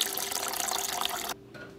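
Water pours steadily into a container while finger jello is being made. The rush is loud and broadband and runs for over a second, then cuts off abruptly and leaves quiet room tone.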